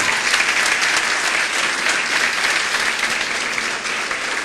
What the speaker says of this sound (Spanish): vamos a brindarle un aplauso